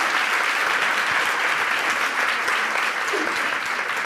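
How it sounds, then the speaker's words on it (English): Dense, sustained applause from a theater audience for a film's cast and director, steady and loud throughout, with no talk over it. "I just want to give these folks a terrific round of applause again because that film is so terrific."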